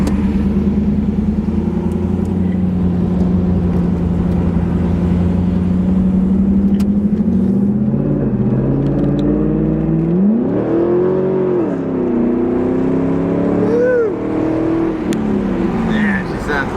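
A 2002 Pontiac Firebird Formula engine runs loudly and close by, holding a steady rumbling idle before revving up and falling back a few times. People talk briefly over it.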